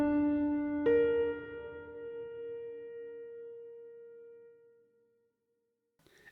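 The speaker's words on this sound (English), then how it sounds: "Now let's move on up to the minor sixth" A minor sixth interval played on a melodic instrument: one sustained tone, then a second note enters about a second later and both ring together, slowly fading into silence.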